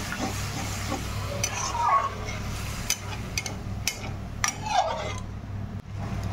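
Frying spice masala with ginger paste is stirred in a pan, giving a low sizzle with scraping and clinking of a utensil against metal at irregular intervals, close by.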